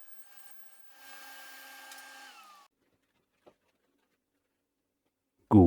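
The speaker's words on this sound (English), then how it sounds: "So now I trim up the wood on the table saw." Table saw trimming a piece of wood for a small thin-walled wooden box, a steady whine lasting about two seconds that winds down, followed by a brief knock and a loud sharp sound at the end.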